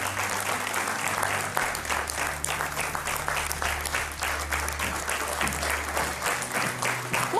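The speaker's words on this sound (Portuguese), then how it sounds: "Um grande aplauso." Sustained applause from a church audience at a baptism testimony event, dense and steady throughout with a low hum underneath and no speech over it.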